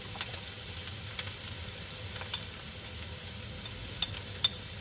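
Cumin and spices frying in a pan for Kerala-style fish peera give a soft, even sizzle, with a few faint scattered clicks of a spoon stirring.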